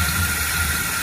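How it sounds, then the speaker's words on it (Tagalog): Water runs from a tap into a container to measure 16 liters for homemade dishwashing liquid, a loud, steady, close gush with no break. "kukuha tayo ng 16 liters dito sa gripo"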